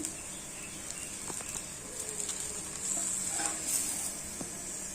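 A pesarattu, a moong dal dosa, sizzles steadily in a pan over a low flame, with a soft continuous hiss and a few light scraping and tapping sounds from a spatula nearby.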